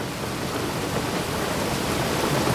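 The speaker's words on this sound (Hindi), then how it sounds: "लेकिन बाहर बारिश हो रही है।" Heavy rain falls outside in a dense, constant hiss with a steady low rumble beneath, loud and unbroken throughout.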